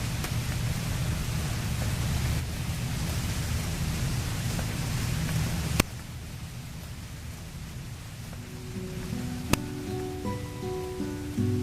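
Steady rain falls on trees and grass outdoors, a dense even hiss with a couple of sharp drip or crack transients and a slight drop in intensity partway through; no talking.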